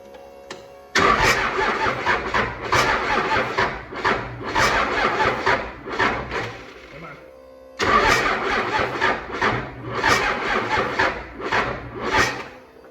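A 6.7L 12-valve diesel engine with 21:1 compression cranks on its starter in two long bursts of rhythmic, labouring churning, loud and close, with a short silence between the attempts.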